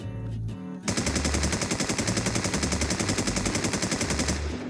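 Sustained automatic fire from an SKA rifle in the video game Infestation, loud rapid regular shots in an unbroken burst lasting several seconds after a brief lead-in.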